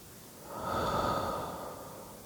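A single slow, steady exhale during a guided mindfulness meditation, breathed out alone and close, swelling to its loudest midway and then easing off without any talk.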